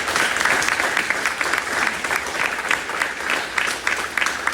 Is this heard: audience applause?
yes